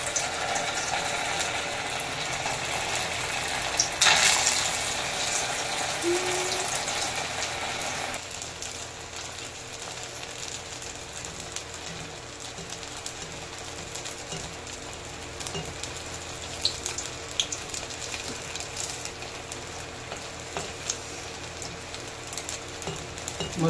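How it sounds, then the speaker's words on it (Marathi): Sabudana cutlets fry in hot oil, a continuous close sizzle and crackle that runs steadily, louder at first and then settling into a softer, even frying hiss. "मस्त असं क्रिस्पी आपण तळून घ्यायचे. तेल छानसं गरम झालेलं आहे."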